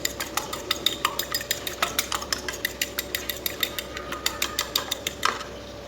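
A single egg is whisked briskly in a bowl for an omelette, a fork clicking against the sides in a quick, even rhythm of about four strokes a second, close and loud, with no speech.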